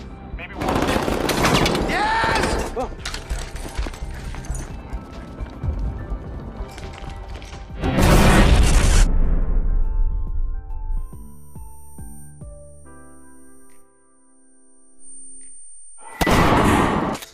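Gunfire from a filmed gunfight during a bank robbery, with dense bursts of loud shots in several clusters separated by quieter passages of music and effects, and a single brief spoken word.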